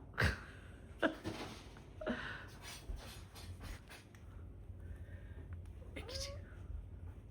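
A cat on a cat tree gives several short meows spread through the scene, close and fairly soft, while a person talks in between.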